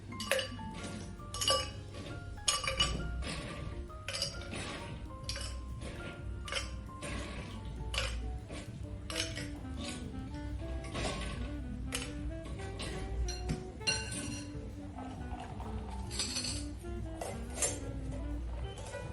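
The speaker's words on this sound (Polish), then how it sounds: "Szklankę wypełniamy kostkami lodu." Ice cubes clink and knock into a glass for a mango and strawberry tea cocktail, a close, continuous run of bright chinks and rattles with soft background music.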